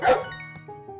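A single short, sharp bark from a dog in Story of Seasons: Pioneers of Olive Town, up close and clear, followed by soft tonal game music.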